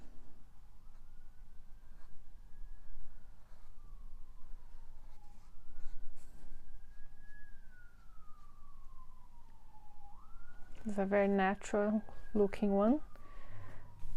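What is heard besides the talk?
ambulance siren outside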